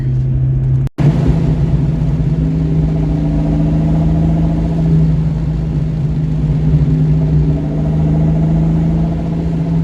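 A Ford 8.8 rear differential howls with a steady tonal whine over the rumble of the car driving, constant and fairly loud throughout, with one brief click near the start.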